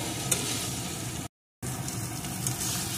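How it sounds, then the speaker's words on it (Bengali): Fried papaya pieces sauté in a pan of fish curry base, giving a steady close sizzle with stirring noises throughout and a brief drop to silence partway. "এখন পেঁপেটাকে দিয়েও আর একটু কষিয়ে নেব।"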